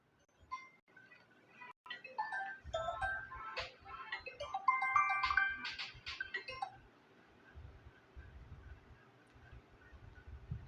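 A mobile phone ringtone plays during a Hindi maths lesson on quadratic equations, a melodic electronic jingle running for several seconds at moderate level before fading into quiet room tone.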